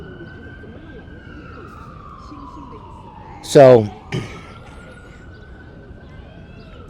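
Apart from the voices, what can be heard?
siren passing in the park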